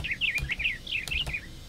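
Small birds chirp in quick, bright repeated tweets in Minecraft, several short calls overlapping close by with a few soft thuds underneath.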